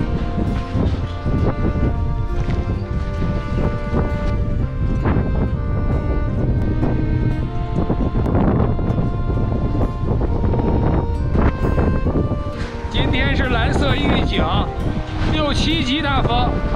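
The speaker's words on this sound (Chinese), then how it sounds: "6-7级大风，刮沙尘暴了。" Strong wind of force 6–7 buffets the microphone during a sandstorm outdoors, a loud, continuous roaring rumble with gusting swells throughout and people talking over it.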